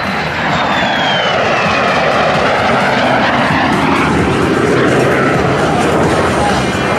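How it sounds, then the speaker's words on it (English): A MiG-17 jet makes a high-speed pass at about 450 miles an hour at the 2022 Lake Cumberland Air Show. Its loud, steady roar holds for the whole clip, with a sweeping pitch as it passes. "here comes Mike Turfer and the MiG-17"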